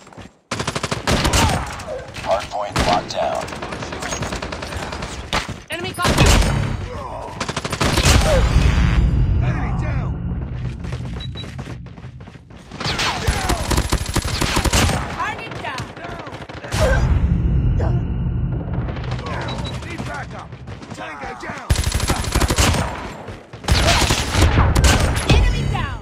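Peacekeeper Mk2 fire in a first-person shooter hardpoint match, loud close bursts repeating across the whole stretch with short pauses between volleys, thuds and game callouts mixed in.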